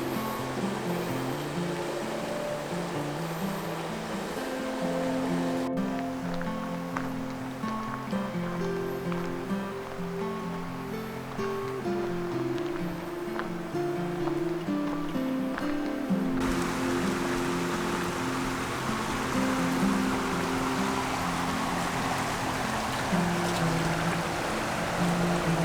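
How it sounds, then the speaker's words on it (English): Water of the Oconoluftee River in Great Smoky Mountains National Park rushing steadily nearby, a continuous broadband wash with no talk over it. "you can hear the water"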